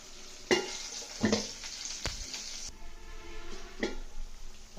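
Mango chicken fries in oil in a pan and is stirred, giving a steady sizzle broken by several scraping, clattering strokes of the spoon against the pan.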